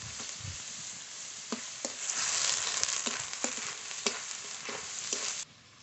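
Onion paste with ginger, garlic, cumin and green chili paste fries steadily in a pan with a continuous hiss, broken by regular spoon clacks as it is stirred, fairly quiet and close.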